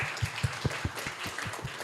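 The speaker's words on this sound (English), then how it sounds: "please give a big round of applause for our presenters" A seminar audience gives the presenters a short round of applause, heard as distinct rhythmic claps over a light patter of clapping, fairly close and moderately loud.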